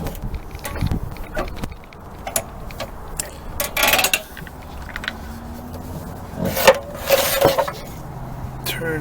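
A Troy-Bilt string mower engine being turned over by hand, with irregular mechanical clicks, ratcheting pulls and clunks of the recoil starter, close up, with no engine catching.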